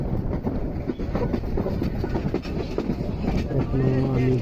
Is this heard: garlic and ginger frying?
no